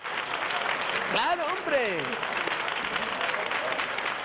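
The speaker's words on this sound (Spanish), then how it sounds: "¡Un aplauso para el gran Willy!" A studio audience applauds with steady broadband clapping throughout a television program, while a voice speaks briefly over the clapping partway through.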